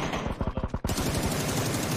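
Rapid automatic gunfire in a multiplayer shooter video game, a fast rhythmic volley of shots that breaks into a louder, denser burst of fire partway through.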